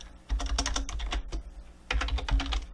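Typing on a computer keyboard while naming a group in Houdini: two bursts of quick, close keystrokes separated by a brief pause, loud and alone with no talk.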